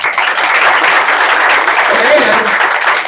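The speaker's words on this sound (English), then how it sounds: "So again, give him a good round of applause." Sales meeting audience applauding, a dense, steady wash of hand clapping that fills the room for about three seconds, loud and continuous, with some voices mixed in.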